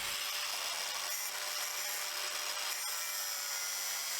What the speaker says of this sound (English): Underneath, I cut down a bolt